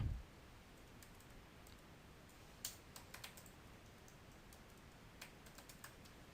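HTML code being typed on a computer keyboard, a quiet close run of soft irregular key clicks over a steady background hiss, no talking.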